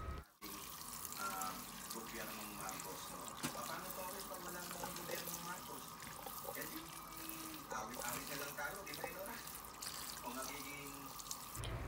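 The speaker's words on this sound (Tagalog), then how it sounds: "hugasan muna natin siya ng tubig" Tap water running steadily over tropical vegetables being rinsed in a kitchen sink, a continuous splashing stream with small drips, while a voice talks in the background.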